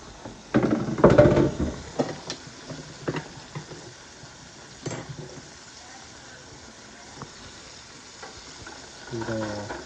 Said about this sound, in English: go ahead and dump all my mushrooms in there